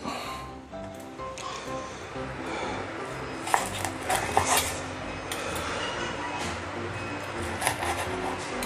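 A knife saws through the crackling crust of roast pork belly char siew, producing scattered crunchy snaps and scraping over a faint background hum.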